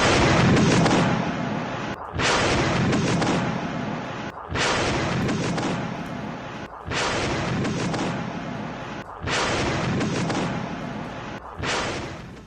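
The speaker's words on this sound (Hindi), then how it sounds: "गाजा में इजरायली सेना का भीषण हमला हुआ, गाजा के योनी शहर में एयर स्ट्राइक किए गए, मिसाइल अटैक में कई इमारतें तबाह हो गई" Airstrike and missile explosions in Gaza: a run of loud, sustained blasts and rumbling bursts that restart roughly every two to two and a half seconds, each roaring broadband and fading slightly before the next, with no talk.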